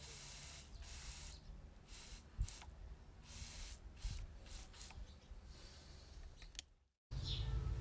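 A steady hissing spray of weedkiller runs for several seconds with a few brief bumps, then cuts off abruptly before a louder burst of noise.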